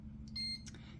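Electronic beeping sounds in a room, a short tonal beep briefly rising over a steady low background hum, with a second chirp-like burst shortly after.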